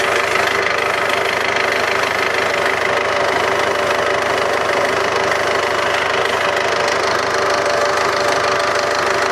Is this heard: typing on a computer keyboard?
no